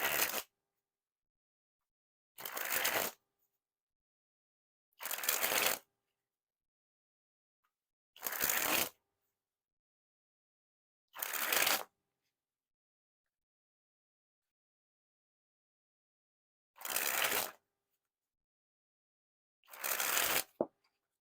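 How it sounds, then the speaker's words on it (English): Odd Bods playing cards by Art of Play are sprung from hand to hand in seven separate bursts of fast, fluttering riffles, each about a second long, spaced by quiet pauses, close and clear with no voices. "time to test the handling. First, we'll start with a couple springs."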